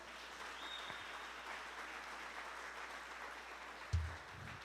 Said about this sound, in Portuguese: aplauda aquele que é digno de louvor